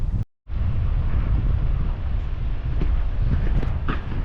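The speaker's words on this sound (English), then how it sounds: "It's windy again." Wind gusts through a rocky river gorge in the Australian outback, a steady close rumbling buffet against the microphone after a brief cut at the start.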